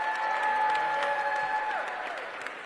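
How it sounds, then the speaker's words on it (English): Neighbors at a recreation center ribbon-cutting burst into applause with some cheering, clapping dense and lively while a couple of sustained whistle-like tones ride over it before fading toward the end. "Edgewood neighbors get the biggest round of applause."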